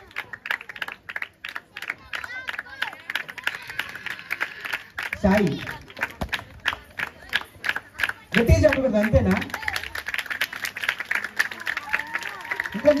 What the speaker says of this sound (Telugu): వారు వస్తూ ఉండగా చప్పలు కొడుతూ దేవుని నామాన్ని మహిమపడతాం.